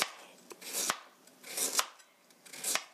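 Knife cutting carrot into thin julienne strips on a cutting board, a few short bursts of scraping, crisp strokes in close succession, three clusters spaced about a second apart, close and moderately quiet.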